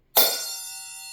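A single sharp metallic clang from small finger cymbals, bright and close, then ringing out and slowly fading.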